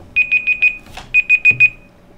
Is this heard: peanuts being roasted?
no